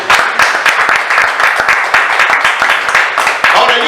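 Applause for the Lord in a church service: a congregation claps in quick, uneven bursts, close and loud, with some voices mixed in.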